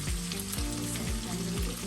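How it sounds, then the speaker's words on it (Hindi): Chicken pieces fry in a pan over medium to high flame, a dense continuous sizzle up close, with a few soft clinks and scrapes of stirring and no voices. "मीडियम टू हाई फ्लेम पे 5 से 6 मिनट लगता है चिकन फ्राई होने में।"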